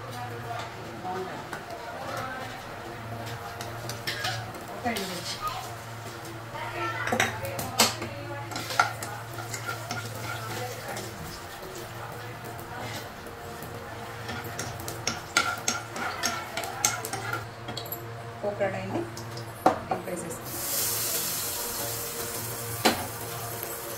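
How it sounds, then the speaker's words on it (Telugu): Spoons clink against a pan amid kitchen clatter while someone talks, then a sharp sizzle rises near the end as tempering spices hit hot oil for tomato chutney. "దీనికి ఇప్పుడు కొంచెం పోపు వేసుకుందాం"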